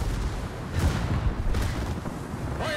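Naval gunfire striking a ship in World of Warships, with Scharnhorst shells hitting a Nelson. Several heavy rumbling booms rise out of a continuous roar.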